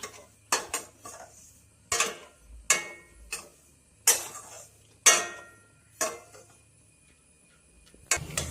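Semolina stirred in a pan for upma, a spoon knocking and scraping against the metal pan in sharp, irregular clatters spaced about a second apart, close and alone.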